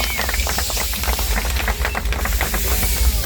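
Steady loud hiss of escaping steam from a departing steam train, rough, rattling texture and deep rumble underneath, continuous throughout with no voices.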